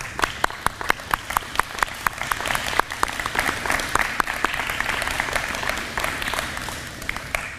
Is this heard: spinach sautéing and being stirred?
no